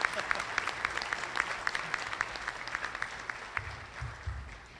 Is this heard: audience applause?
yes